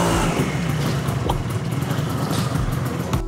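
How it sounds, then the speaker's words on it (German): A Vespa TX200 scooter does a short burnout, its engine revving hard and steady at close range for a few seconds with a constant gritty roar and no talk. "Kurzer Burnout."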